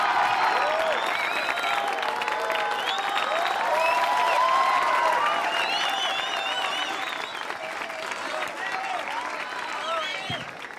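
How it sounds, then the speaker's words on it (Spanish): A studio audience gives a newcomer a welcoming round of applause, steady dense clapping with light cheering, sustained through the whole stretch under a faint overlying voice. "Vamos a recibirlo con un fuerte aplauso"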